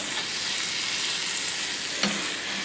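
Taco filling sizzles steadily in a pan while being mixed together, with one brief utensil knock near the end and no speech.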